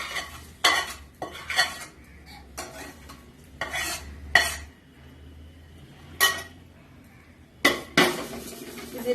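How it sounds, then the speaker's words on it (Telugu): Chutney, a besan Bombay chutney with fried tomato pieces, being stirred in a pan on a low flame: repeated bursts of spoon scraping and clinking against metal, with a faint low hum in between and no talk. "ఇది ఇలా సిమ్లో పెట్టి కలుపుతూ ఉండాలి"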